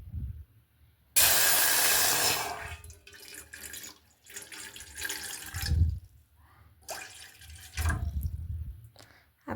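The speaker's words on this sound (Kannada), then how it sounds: "ಇದರಲ್ಲಿ ಒಂದು ಅರ್ಧ ಗ್ಲಾಸ್ ನೀರು ಹಾಕ್ಕೊತೀನಿ." About half a glass of water is poured into a vessel for a detox drink, making a short splashing gush of about a second, followed by quieter handling clinks.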